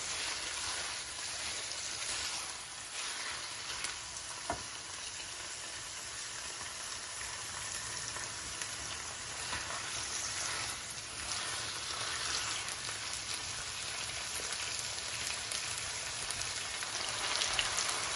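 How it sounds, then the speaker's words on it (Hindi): Chicken pieces frying in a pot for Sindhi chicken biryani, a steady dense sizzle and crackle that hisses on evenly without pause for the whole stretch, with no talk. "भुनने पे आ गया है चिकन हमारा।"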